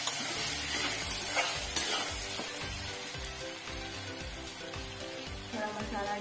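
Elephant yam pieces sautéed with turmeric in a pan, a spoon stirring in repeated rhythmic scrapes over a constant oily sizzle, heard up close with no talking.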